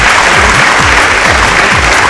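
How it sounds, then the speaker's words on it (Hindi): Heavy applause from a large crowd at an outdoor singing contest finale in Gandhi Maidan, Patna, steady and loud, with a repeating low drum-like thump running beneath the clapping. "तो जोरदार ताली है भैया"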